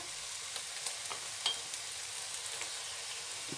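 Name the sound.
keema being roasted with salt in a pan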